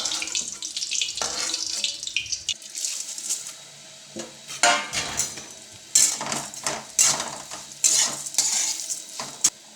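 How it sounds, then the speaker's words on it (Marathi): Flattened rice roasting in ghee in a pan over low heat for a sweet jaggery poha, with a steady close sizzle broken by bursts of scraping and stirring. "ह्याच्यामध्ये पोहे टाकून भाजून घेऊया"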